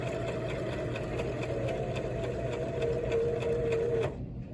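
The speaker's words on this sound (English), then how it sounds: "I'm going to insert my needle and start sewing" A sewing machine stitches through pillow fabric in a steady, fast mechanical whir with a rapid needle rhythm. It runs close and loud for about four seconds, then stops abruptly.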